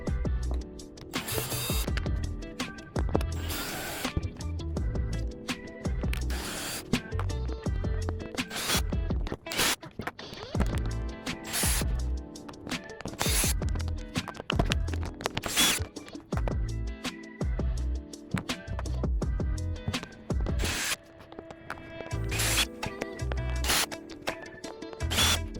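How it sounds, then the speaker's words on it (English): Phillips head screws are driven out of a plastic-covered Razor dirt bike seat, with repeated short whirring bursts of a power screwdriver separated by pauses and handling clicks, close and fairly quiet. "take out all of these Phillips head screws to remove the plastic from the seat"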